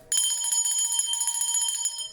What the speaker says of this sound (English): Ringing the bell again to ground those 1010 energies